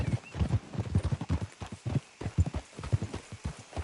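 Horse hooves clip-clop in a quick, steady rhythm in the video game Red Dead Redemption II, several horses walking together close by on hard ground, with no voices.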